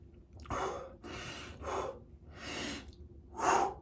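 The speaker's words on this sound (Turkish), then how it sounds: "bakın nefesi alıyorsunuz burundan" Someone lifting a roughly 10 kg weight breathes in and out through the nose, a series of about five close, breathy inhales and exhales with short pauses between, the last one the strongest.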